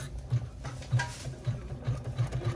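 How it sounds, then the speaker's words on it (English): Embroidery machine stitching a pleat line on a flat-bottom crossbody bag in the hoop, giving a steady, rhythmic mechanical chatter of evenly spaced stitch pulses, close and moderately loud, with no talking. "now we're going to get ready to start stitching our pleat"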